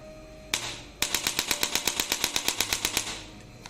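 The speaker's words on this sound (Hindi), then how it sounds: "तो ये था एक छोटा सा डेमो स्पाइन एडजस्टर गन का।" A Biotronix chiropractic spine adjuster gun, an electric 1100 N device, runs on its third mode at power 13, firing a fast, steady train of about fifteen sharp, loud mechanical clicks with a short startup burst and a lighter tail.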